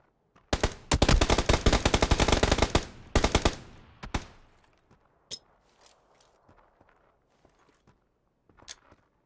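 Rapid bursts of automatic gunfire in PUBG: Battlegrounds rattle loudly for about three seconds, then a short final volley, followed by faint footsteps and sparse small clicks.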